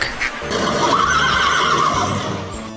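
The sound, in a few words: horse neighing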